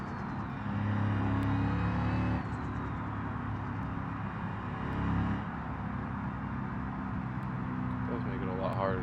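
A turbocharged car engine in a racing video game drones and surges, rising and falling in pitch as it revs between shifts, steady and prominent beneath a person talking.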